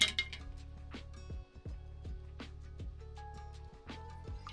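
Clear plastic glass parts from a Hasegawa Lancia Super Delta rally model kit clink lightly several times, near and dry, over a faint steady hum, with no talking.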